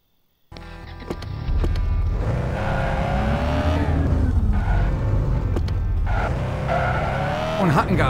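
Car driving away in Thief Simulator VR, the engine starting abruptly then revving and accelerating with rising and falling pitch and brief tire squeal, loud and close throughout.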